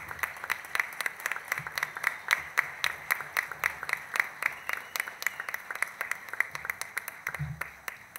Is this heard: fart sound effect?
no